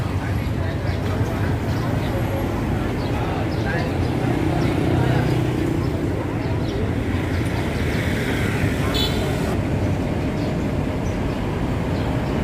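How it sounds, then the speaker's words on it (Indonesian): Busy morning road traffic on the overland route between Cambodia and Vietnam makes a dense, continuous rumble that stays loud and steady throughout, with a voice talking over it. "Dan ini kondisi lalu lintas pagi hari. Ini cukup ramai sekarang."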